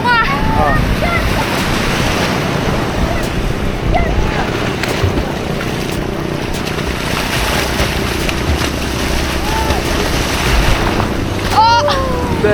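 Rough sea surf washes steadily along a beach at San Felipe, Zambales, with wind buffeting the microphone; a broad continuous roar fills the whole stretch, and faint voices shout in the distance.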